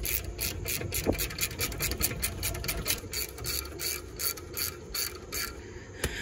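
A hand ratchet clicks steadily in an even rhythm while tightening a bolt on the brake assembly of a Toyota Tundra, heard close up and alone with no talking.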